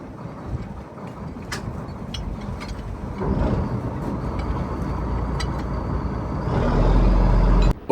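A winch hauling rope aboard a Kerala trawl fishing boat, with mechanical clicks and knocks over a loud engine drone that swells to a heavy steady roar near the end.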